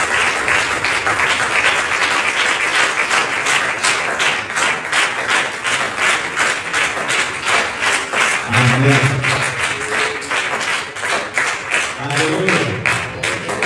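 Congregation at a children's church service clapping loudly in praise: sustained, dense applause throughout, with a few brief voices rising over the clapping near the end.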